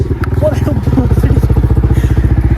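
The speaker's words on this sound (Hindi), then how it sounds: "ये बंदा ही राइड कर रहा है बाइक" A motorcycle engine runs steadily and close by, its rapid rhythmic pulsing loud throughout, during a crowded New Year celebration at Lal Chowk in Kashmir.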